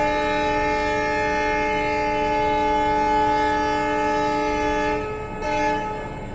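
The 16362 Velankanni–Ernakulam biweekly express sounds a long, loud, sustained horn as it departs Velankanni. The horn holds steady at close range, then dips and fades slightly near the end under faint rail rumble.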